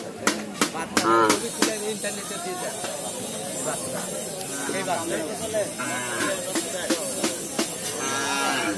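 Sahiwal cattle moo repeatedly at a busy outdoor cattle market, lowing calls rising over a crowd of people talking nearby.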